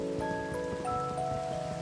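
Minecraft rain falls as a soft, steady hiss, heard under gentle sustained music notes, with no talking.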